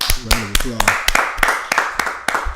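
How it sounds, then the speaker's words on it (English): A few scattered hand claps from a small group welcoming Mike, sparse and uneven, following a brief stretch of talking at the start. "I appreciate everybody give Mike a round of"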